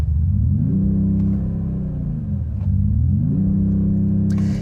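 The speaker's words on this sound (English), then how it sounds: "and that will wake the engine up" A 2025 Mercedes-AMG E53 Hybrid sedan engine rumbles steadily up close in Sport mode, its low hum rising and falling in pitch as it revs, with no voices.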